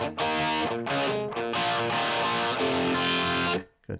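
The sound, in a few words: electric guitar with phaser effect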